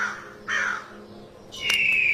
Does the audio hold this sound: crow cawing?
yes